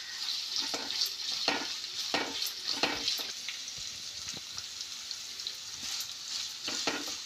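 Onions, cumin and mustard seeds fry in hot oil, crackling and sizzling steadily up close, with repeated scraping stirs and small pops throughout.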